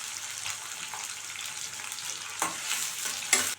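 Chopped onion and curry leaves frying in oil for an okra curry make a soft, continuous sizzle close by, swelling into louder bursts of crackling near the end as more goes into the pan, without any voices.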